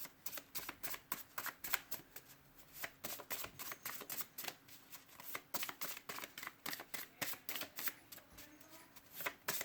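Playing cards are shuffled over and over at close range, a rapid series of crisp riffling bursts with brief pauses between them.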